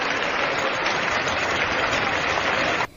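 Dense, steady applause from a large audience inside a film scene, loud and continuous, filling the space with no voices on top before it cuts off abruptly near the end.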